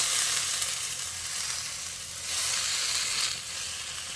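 Susni greens frying with potato and eggplant in a pan give a steady, close sizzle, swelling twice as the mixture is stirred.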